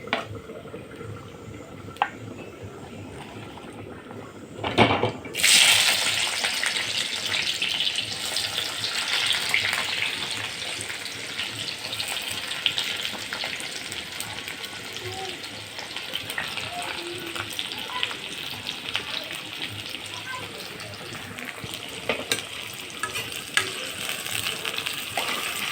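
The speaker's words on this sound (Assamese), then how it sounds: "এতিয়া মই পিঁয়াজটো ৰঙচুৱা হোৱালৈকে অলপ টাইম ভাজি ল'ম" Chopped onions fry in hot oil with cumin seeds for a meat curry, a steady crackling sizzle that flares up loudly a few seconds in and then holds close and continuous, with occasional stirring.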